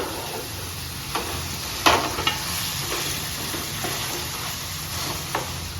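Marinated chicken mixed with Royal Stag whisky sizzles steadily in a pan while a spoon stirs it, with a few sharper scraping clicks over the continuous frying hiss.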